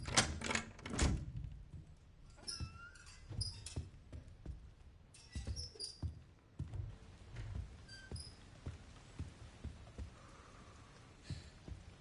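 Old typewriter in the Resident Evil Requiem video game clacking as keys strike, a brisk irregular run of crisp mechanical taps with small dings and thuds, near and quiet, heard alone.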